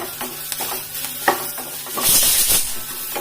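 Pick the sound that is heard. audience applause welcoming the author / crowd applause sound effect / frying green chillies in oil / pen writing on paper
frying green chillies in oil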